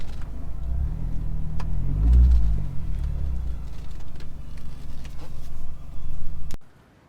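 A 2005 Mini Cooper S R53 being driven, its engine rising in a rev around the two-second mark over steady road rumble before the sound cuts off abruptly near the end.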